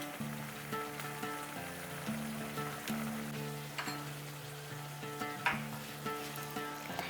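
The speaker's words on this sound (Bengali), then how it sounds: "মটরশুঁটি আর মেথি শাক দুটোকেই কিন্তু এরপরে মশলার সাথে বেশ ভালো করে কষিয়ে নেবেন" Peas and fenugreek leaves sauté with spices in a pan for a paneer curry, a soft continuous sizzle with occasional stirring clinks, set under steady background music and no talk.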